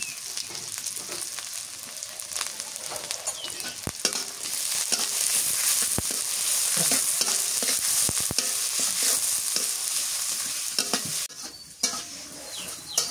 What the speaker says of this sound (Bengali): পেঁয়াজ আর মরিচটা একটু হালকা করে ভাজা নিই